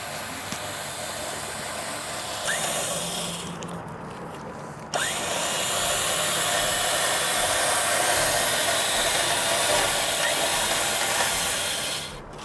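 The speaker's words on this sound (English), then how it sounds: "When you're spooling your line back in, you never want to hold the hook by itself." A Borne off-road winch motor spools rope line back in with a steady, close electric whine that shifts in pitch partway through and runs unbroken for about twelve seconds.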